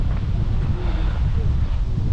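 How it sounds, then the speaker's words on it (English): Strong wind at a lake dock on Lake Umbagog, a continuous low buffeting roar across the microphone with faint lapping and rustle beneath, steady and close. "You can see it's still very windy."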